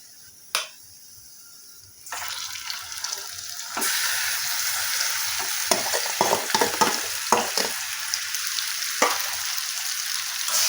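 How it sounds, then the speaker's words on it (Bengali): Onions fried deep red-brown are stirred in a hot pan, a steady sizzle rising after a quiet start, with repeated scraping clacks of the spoon against the pan throughout. "এখানে আমার পেঁয়াজটা ভাজা হয়ে গেছে পেঁয়াজটাকে কিন্তু একদম এইভাবে লাল করে ব্রেসটা করে ভেজে নিতে হবে"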